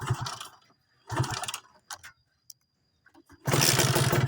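Motorcycle engine started with the clutch engaged in first gear, giving short bursts of cranking and sputtering, then catching into a loud running roar near the end, with brief clicks between.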